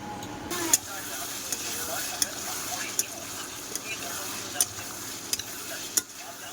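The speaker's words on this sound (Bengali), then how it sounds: "তরকারিটা ভালো করে কষাই করে নেব।" Meat curry being stir-fried in a pan, a steady sizzle with regular spatula scrapes and clicks against the metal, close and moderately loud, with no voices.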